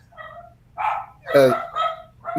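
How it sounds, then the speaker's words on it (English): Several dogs bark in short bursts indoors, a few sharp yips and woofs spread across a couple of seconds, fairly close and loud over a low background hum. "Sorry, my dogs."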